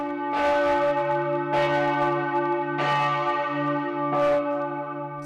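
Large church bells, including one nearly 800 years old, toll at noon inside a tower in Germany's Black Forest. Four loud, resonant strikes fall about 1.3 seconds apart, and each rich hum rings on between them.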